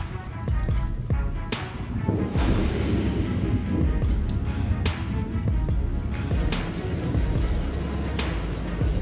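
Thunderstorm over the Oklahoma plains with heavy rain pouring steadily on surfaces, broken by several sharp, close thunder cracks and rolling rumbles throughout.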